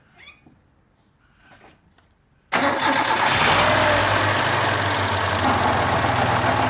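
A budget race car engine is quiet until it cranks and fires abruptly, then settles into a loud, rough, steady running note with a lumpy knock, close to the listener.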